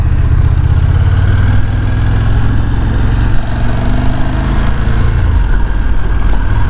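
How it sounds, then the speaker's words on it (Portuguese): A 2021 KTM 1290 Super Duke R motorcycle engine runs loud and close with a rough, throbbing idle around 2000 rpm, its pitch wavering slightly and dipping toward the end. "às 2000 o motor não gosta muito, mas nós subimos alegremente de rotação"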